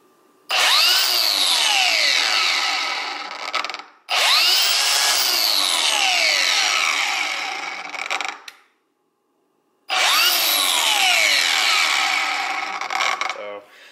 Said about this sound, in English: this is not variable speed, so this is just when you click it